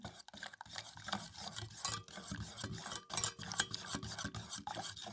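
A spoon scrapes and rasps against a pot while stirring a milk mixture for a soufflé, in irregular close strokes with no talking.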